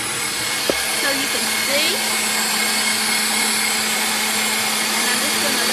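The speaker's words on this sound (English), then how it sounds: "I've got my mixer turned on high." An electric mixer runs on high speed whipping cream, giving a loud, steady motor whine that holds for the full stretch, with a few brief spoken words over it.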